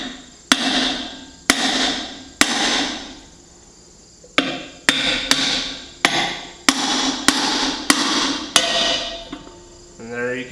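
Loud metal hammer blows drive a Stemco seal driver to seat a wheel seal on a Mack R686ST truck hub. The strikes come in sharp ringing clusters, with a short pause partway through before a quicker run of hits.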